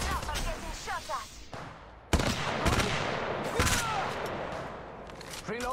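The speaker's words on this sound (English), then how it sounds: "Listen up, I'm getting shot at." Gunfire aimed at the player in Apex Legends Mobile: loud, close bursts of rapid shots and sharp impacts, with a sudden heavy blast about two seconds in, mixed with game effects.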